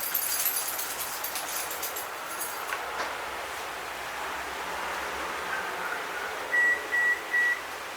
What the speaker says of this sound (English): That is the sound of our oven that just preheated to 400 degrees Fahrenheit.